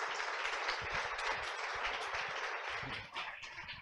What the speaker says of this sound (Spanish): un aplauso para nuestro speaker